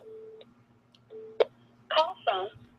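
Phone call tones sound during a call-in radio show as a caller is dialed: short steady beeps, then a quick tone burst. Two brief spoken bursts follow over a low line hum.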